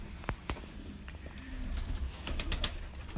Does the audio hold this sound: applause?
no